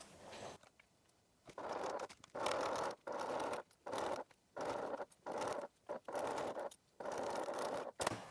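Sewing machine stitching a seam on a bag with an eighth-inch allowance: close, steady bursts of buzzing motor hum broken by short pauses.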